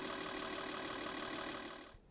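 A fuel injector flow test rig runs at about 3.5 bar fuel pressure, giving a steady, even mechanical hum that fades out near the end.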